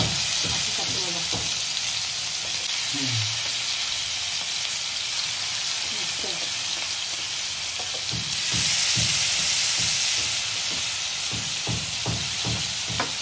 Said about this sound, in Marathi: आपण कोळंबी मस्त तळून घेऊ. कोळंबी फ्राय मस्त करूया.